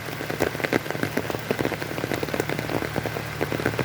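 Heavy rain pours steadily onto surfaces over a field, a dense, loud, continuous hiss with sharp drop impacts throughout and no voices.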